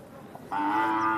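A Lal Kandhar bull at a Gangakhed cattle market gives a single loud, sustained low close by, following a brief murmur of market background.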